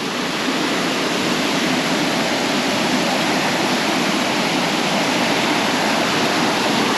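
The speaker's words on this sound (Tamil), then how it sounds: "ஒரு வடிவான அருவி இருக்கிற இடத்துக்கு வந்துச்சு" A waterfall in Reichenburg, Switzerland roars in a constant, dense rush of water, loud and unbroken throughout, with no voices.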